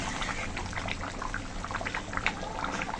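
Potatoes bubbling in a pot of crab curry with the lid just lifted, a steady close simmering hiss dotted with soft pops and small splashes, no voices.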